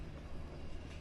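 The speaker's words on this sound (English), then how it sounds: "you can see in the distance there the tram going around the bend" A Melbourne number 86 tram rounds a bend in the distance on its route between Docklands and Bundoora, giving a low, steady rumble that stays fairly faint throughout, with no talking.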